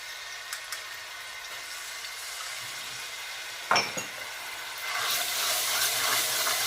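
Two teaspoons of garlic and ginger paste added to hot oil for a restaurant-style chicken Madras curry, a faint clink and scrape of a utensil, then a soft hiss and sizzle rising and holding steady.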